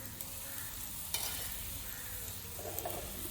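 Ragi bhakhri cooking in peanut oil on a griddle, a steady close sizzle and frying crackle with a few soft scraping touches as it is pressed and turned.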